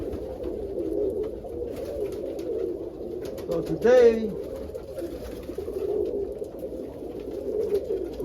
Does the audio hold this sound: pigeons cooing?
yes